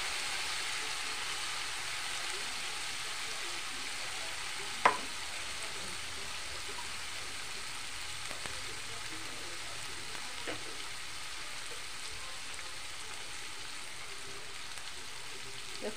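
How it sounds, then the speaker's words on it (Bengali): Taro stolons frying with chili paste, garlic paste and turmeric give a soft, steady sizzle that stays low throughout, broken by occasional sharp clacks of a spoon stirring against the pan. "নাড়াচাড়া করে নেব"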